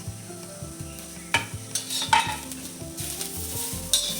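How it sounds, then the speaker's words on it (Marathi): Grated coconut roasts in a pan alongside onions for a mutton curry, giving a soft sizzle under repeated close scraping strokes of a spoon that knock rhythmically against the pan, with a few louder clatters and no talking. "खोबरे भाजून घ्यायचे आपल्याला चांगलं खरपूस"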